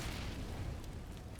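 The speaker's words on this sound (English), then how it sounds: "Now we have some grenades being exchanged early on here" Deep booming grenade blasts in Counter-Strike on the Dust 2 map during a competitive match, a dense rumbling burst filling the short moment with no talk.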